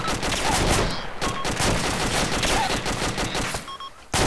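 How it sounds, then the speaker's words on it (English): Dense, continuous rifle and machine-gun fire from a firefight in Arma II: Operation Arrowhead crackles close and loud, rapid overlapping shots filling the scene before a brief lull near the end. "I'm getting shot at."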